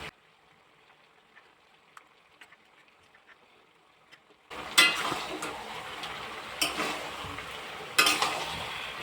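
Mutton being stirred with ginger, garlic and dried red chilli paste in a pot: quiet at first, then loud scraping and sizzling stirs begin midway and continue with sharp bursts.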